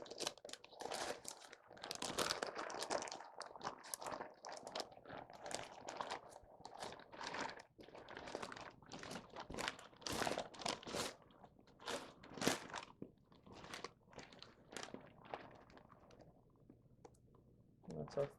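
Crinkling, crunching wrap being peeled off a smoked prime-grade brisket after an overnight rest in an oven, made in a 250-gallon offset smoker; close rustling and tearing bursts run throughout with a person talking over them.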